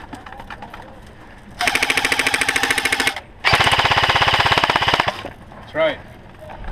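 Airsoft guns fire long automatic bursts during a Black Ops airsoft game in Zion, Illinois, two sustained rattling volleys of a few seconds each, loud and close, separated by a brief pause, with a short voice afterward.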